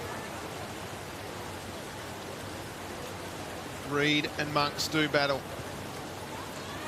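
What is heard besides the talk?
rain falling on a football ground in Hobart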